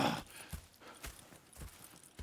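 Horse hooves clip-clop on the ground in Red Dead Redemption 2, several distinct evenly spaced hoofbeats at a walking pace, close and clear with no talk.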